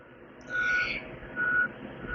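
Two evenly spaced electronic reversing beeps sound from a vehicle at a moderate distance.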